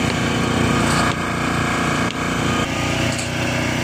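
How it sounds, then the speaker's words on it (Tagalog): A generator runs steadily at a construction site where a concrete post is being smoothed and plastered, its loud, continuous engine drone holding even throughout with slight dips, no voices over it. "Medyo maingay po dito guys dahil mayroon po silang generator dito"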